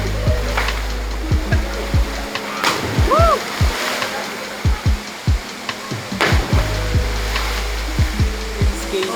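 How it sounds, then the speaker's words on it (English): A waterfall on Siquijor Island in the Philippines, a steady wash of rushing, splashing water close by, with voices and footsteps or knocks scattered over it. "We are just arriving here in waterfalls."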